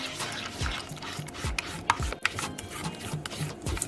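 Bean batter for akara fritters being mixed in a bowl, a soft rough rubbing and scraping with uneven strokes and a few sharper knocks, close and fairly quiet, no voices.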